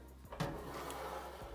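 The ash drawer of a white Fireway Klemens stove-fireplace slides out, giving a brief scraping pull and a soft thud, then a faint sliding rasp, quiet and close in a still room.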